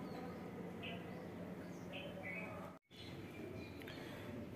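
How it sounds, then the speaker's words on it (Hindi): Several small birds chirp in short scattered calls during a morning in a garden, faint and somewhat distant over a steady noisy background, with a brief dropout midway. "चिड़िया भी कितनी ची ची कर रही हैं"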